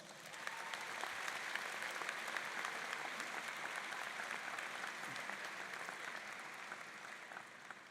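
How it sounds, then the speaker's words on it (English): A graduation audience at a university's Schar School spring ceremony gives a long, even round of applause, faint and distant. It holds steady for nearly eight seconds without breaks or speech. "Please give yourselves a round of applause."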